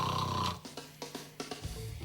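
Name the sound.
loud snoring during a sleep study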